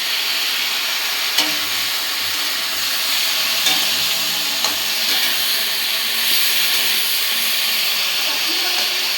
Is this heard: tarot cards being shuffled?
no